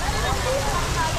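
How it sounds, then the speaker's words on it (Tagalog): Heavy rain falls during a night bike ride from Davao City to Tagum City, a brief burst of dense, hissing downpour that is loud and close. "Okay, lakas ang ulan mga kaidol."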